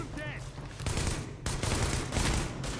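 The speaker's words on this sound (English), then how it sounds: "Gotta love that headshot sound." Rapid gunfire and impacts in The Division, a headshot in a third-person shooter, with dense overlapping bursts throughout and a few faint game voice sounds at the start.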